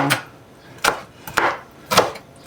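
Knife chopping sauerkraut cabbage on a wooden board, four separate sharp chops spaced under a second apart, close and clear with quiet between.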